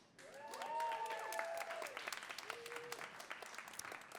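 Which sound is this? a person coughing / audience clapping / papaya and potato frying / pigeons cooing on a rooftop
audience clapping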